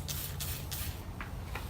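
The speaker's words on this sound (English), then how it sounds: "you just wanna make sure that's sprayed up" A hand spray bottle mists water onto a windshield while a banner is installed, giving about five short, soft hissing spritzes in an uneven rhythm, close and faint with no talk.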